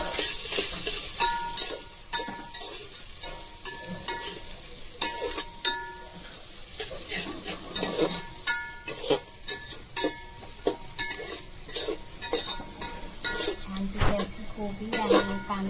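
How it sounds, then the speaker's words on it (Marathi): Shredded cabbage and onion are stirred in a pan for egg biryani: frequent utensil scrapes and clinks against the pan over a quiet sizzle, close by, with brief bits of talk. "कोबी आणि कांदा आपल्याला मिक्स करून घ्यायचा आहे।"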